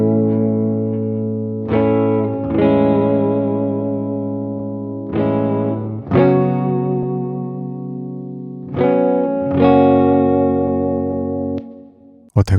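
A clean electric guitar played through a compressor pedal set to a long attack time rings out in strummed chords, each strike fading slowly under reverb, close and fairly loud with no talk.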